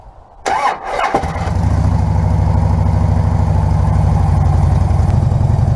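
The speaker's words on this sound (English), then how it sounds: "The Harley's running." A Harley motorcycle is started in the cold: a brief starter crank catches and the engine settles into a loud, steady, loping idle right up close.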